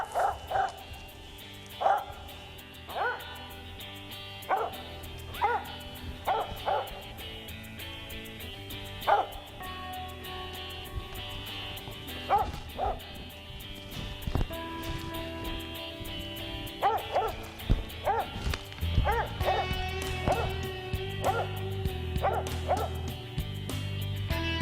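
Hunting dog barking at a squirrel it has treed in the woods, repeated loud barks and yips arriving in irregular bursts, some close together, with whimpering between them.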